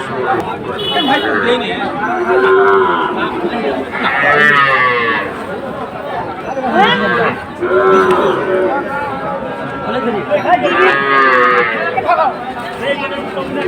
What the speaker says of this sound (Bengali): এখানে শাহিওয়াল জাতের সার বাচ্চা